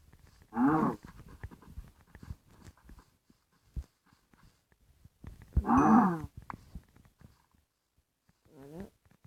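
Cows in the game Minecraft low in two loud mooing calls about five seconds apart, with a fainter third call near the end, over quiet game clicks.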